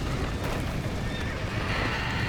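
A horse whinnies in the video game Red Dead Redemption, its neigh set within a busy, noisy game mix of commotion during a chaotic escape, with hoof clatter hinted beneath.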